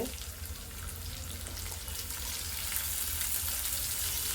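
Thinly sliced onions fry in hot oil, being browned to golden, giving a continuous close hissing sizzle that grows slightly fuller toward the end, with no voices.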